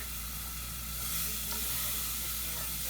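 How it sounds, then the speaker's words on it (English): Steady, close sizzling of mac and cheese ingredients frying in a hot pan on medium-low heat, a loud continuous crackling hiss with no talking. "It's sizzling on me"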